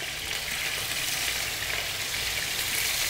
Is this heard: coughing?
no